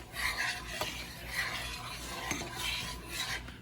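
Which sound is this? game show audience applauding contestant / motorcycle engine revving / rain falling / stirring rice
stirring rice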